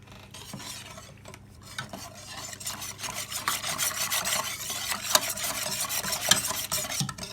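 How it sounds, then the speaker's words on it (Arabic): Milk with pastry cream powder whisked in a bowl, a quick, rhythmic scraping and swishing that builds from quiet to steady and close, with no voices. "j'ai mélangé le lait avec la poudre de crème pâtissière"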